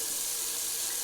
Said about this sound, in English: let me drain the old Sea Monster sink